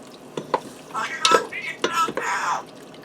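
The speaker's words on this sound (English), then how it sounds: "I'm going to give this a stir quick, get everything all mixed together." A spoon stirs a gnocchi mixture in a Ninja Foodi pot, giving a few separate scrapes and soft clatters over a light sizzle, close and fairly loud.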